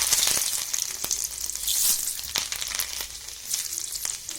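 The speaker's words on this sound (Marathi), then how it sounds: "तेलामध्ये आपण आधी लसूण घालायचं." Garlic dropped into hot oil sizzles with a steady, fairly quiet hiss, dotted with small sharp pops and crackles throughout.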